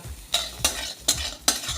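A spoon stirs spices and onion frying in a pan, giving four sharp scraping strokes at an even pace over a soft, steady sizzle.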